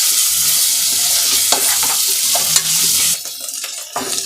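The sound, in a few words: frying and stirring ginger garlic paste in oil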